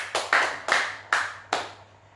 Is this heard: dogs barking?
no